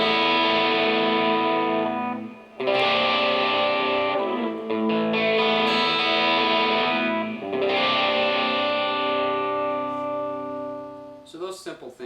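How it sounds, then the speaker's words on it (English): Electric guitar played through a distortion effect for worship music, sustained chords ringing out in long held strums with a couple of chord changes, loud and alone, ending with a few short picked notes. "Add some distortion, and you get a nice sound too."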